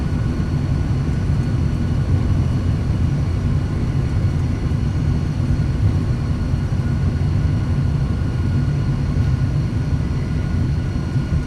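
A steady, loud roar of MD-11F engines in reverse thrust during landing rollout in a flight simulator, holding a constant dense rumble for several seconds with no voices.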